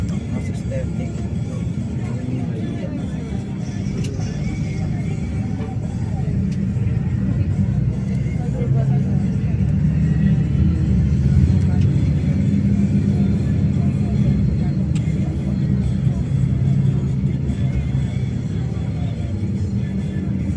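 Dense road traffic on the way to Pasay, a constant low rumble of engines and passing vehicles that never lets up, with people talking faintly over it.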